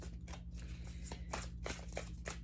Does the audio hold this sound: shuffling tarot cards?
yes